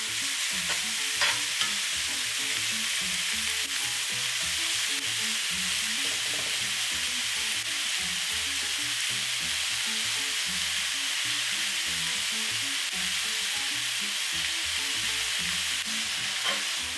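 Beef steak pieces for fajitas sear in a hot pan, giving a loud, continuous sizzle and crackle that holds steady throughout with no voices.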